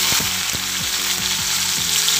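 Small shallots hit hot oil with crackled cumin and mustard seeds for a village-style goat bone sambar, giving a loud, continuous sizzle with repeated clinks of a spoon stirring in the pan.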